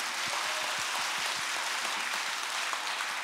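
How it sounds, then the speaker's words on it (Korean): Audience at a church book concert hosted by a Christian radio station in Busan applauding, a steady dense wash of clapping throughout, moderately distant and without talk. "박수 한번 다시 한번 주시죠."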